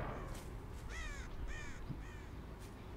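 Crows cawing in the Dead by Daylight video game: a few short, harsh caws in quick succession, fairly faint, over a low steady game background.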